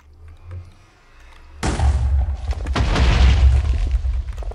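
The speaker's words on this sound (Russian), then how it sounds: "А, части сарайчика осталось, тоже взрываем." Dynamite detonates in Minecraft, blowing up what remains of a shed with a sudden loud boom, followed by a sustained rumbling crackle of debris that swells and lingers for several seconds.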